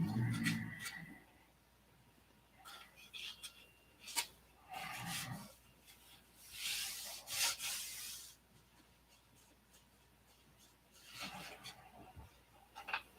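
Sanding on a fuselage joint filled with body filler comes in intermittent rubbing, scratchy bursts, some short and some stretched over a couple of seconds, close by and moderately loud, separated by quiet gaps.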